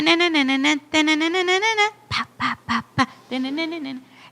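A song playing, a bright, quacking duck-like melody in quick bursts of repeated notes with short pauses between phrases.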